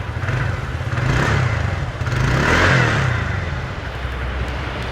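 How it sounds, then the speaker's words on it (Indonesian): A TVS Ntorq XP Race 2022 scooter with a deep, bassy exhaust revs twice in loud, close swells over a rumbling idle, with no talk. "Suara knalpotnya dia ngebas."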